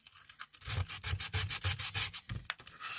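Sandpaper rubbed back and forth over a wooden sign, a steady rhythm of rasping strokes, close and fairly quiet, with no voices.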